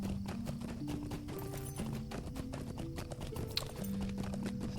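Horse hooves clip-clopping at a steady ride pace in Lord of the Rings Online, a continuous fast rhythmic beat laid under game music and ambience, with no talking.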